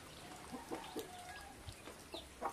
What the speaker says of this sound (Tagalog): May bagong sisiw na naman kami.